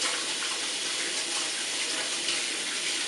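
Steady tap water runs into a sink while hands are washed, a continuous close splashing rush with no pauses.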